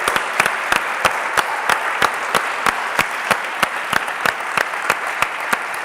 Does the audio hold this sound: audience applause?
yes